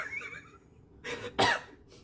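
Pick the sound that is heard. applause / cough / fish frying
cough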